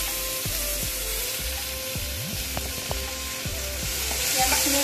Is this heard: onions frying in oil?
yes